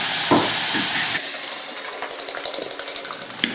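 Potatoes fry in oil in a pan for a Spanish omelette. A broad, steady sizzling hiss drops to a quieter bubbling layer with a fast run of crisp crackles and pops close by.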